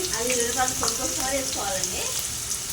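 Dried red chillies sizzle in hot oil for a Telugu tomato pickle, a steady bright hiss running the whole time beneath a talking voice.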